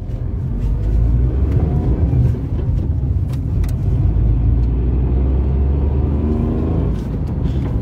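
A Tata Tiago hatchback accelerating hard from a standstill toward 100 km/h with its air conditioning switched off, its engine rumbling loud and steady throughout as the revs climb and the car gathers speed.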